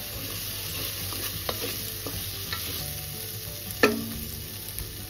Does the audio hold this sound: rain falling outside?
no